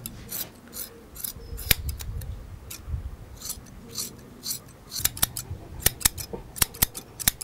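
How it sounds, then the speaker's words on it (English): Crisp scissor snips repeat close up while trimming a dog's hair, irregular at first then quickening into a rapid series of sharp cuts, with soft rustling of hair between. "Put the scissors in."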